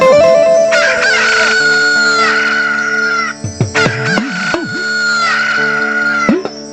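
A rooster's cock-a-doodle-doo, apparently imitated by a voice, rises over a loud, continuous devotional Gujarati dakla folk music backing, with a few wavering crow-like calls in the middle.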